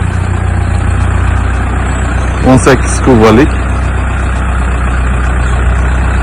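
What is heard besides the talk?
Fendt Farmer tractor engine idling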